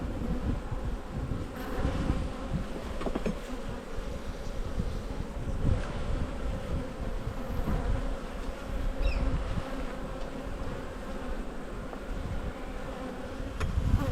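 Honeybees buzz steadily in an opened hive, a dense continuous drone up close with light wind rumble and no talking.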